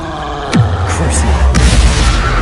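Confringo explosive spell in Hogwarts Legacy, two loud booming blasts with a falling, whooshing tail, a second apart, over continuous rumbling game background.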